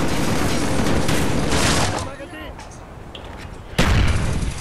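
Rocket launcher fire and explosions in Call of Duty Black Ops hit as loud, dense bursts of gunfire and booms, falling away mid-clip before a sharp, heavy blast near the end, with players talking over the action.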